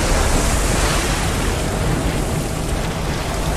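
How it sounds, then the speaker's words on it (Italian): Water bursts and gushes in the video game Darksiders Warmastered Edition as a loud, continuous rushing roar like surf that stays steady for several seconds with no voices over it. "Ma è esplosa l'acqua addosso!"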